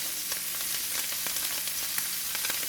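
Shrimp fry in about a tablespoon of preheated bacon fat for shrimp and grits, making a steady, close hiss and crackle with faint small pops throughout and no talking.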